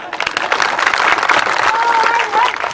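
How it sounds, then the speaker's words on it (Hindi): Audience applause at a stage play performance, a busy crowd clapping throughout with some talk and cheering mixed in, fairly loud and close. "एक एक पॉइंट पर ताली बजाओ दे जाने वाला।"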